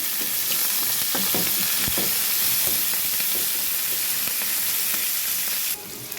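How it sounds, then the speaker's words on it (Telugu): Cumin seeds crackling in hot oil, then onion and green chilli frying in a pan: a loud, dense sizzle with sharp pops and spatter throughout, easing slightly near the end, and no talk. "ఆ జీలకర్ర చక్కగా చిటపటలు ఆడుతూ ఉంటుంది."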